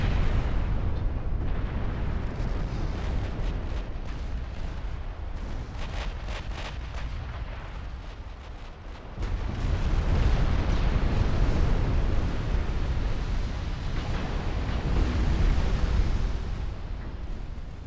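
Battleship guns fire in the naval game Ultimate Admiral Dreadnoughts, heavy booming salvos and rumbling blasts rolling one after another, loud and dense throughout, with a brief lull before a fresh, deeper barrage.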